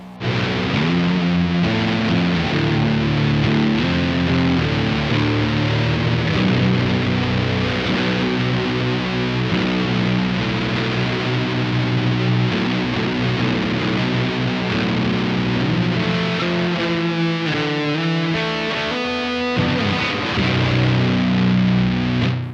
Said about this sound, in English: a digital echo pedal with an all analog dry signal path